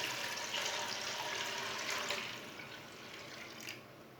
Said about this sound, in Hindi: चार गिलास पानी डाल लेंगे।